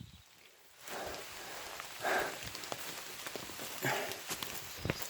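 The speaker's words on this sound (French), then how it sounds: "Là c'est gros orage depuis tout à l'heure" Heavy thunderstorm rain falling in a forest, a dense, steady patter of drops with a few louder bursts and splashes, no voices.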